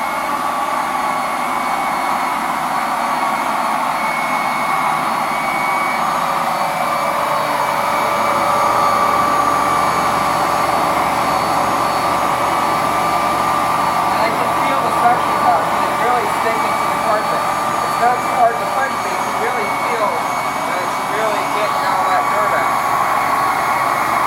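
A Hoover Dual Power Pro carpet cleaner runs continuously with a loud, steady motor whine and airy drone, spraying during quick forward-and-back passes over carpet, with faint scattered clicks and rustles over the hum.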